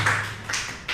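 Children in a primary school classroom give a short burst of hand clapping, a few quick taps that fade within a second.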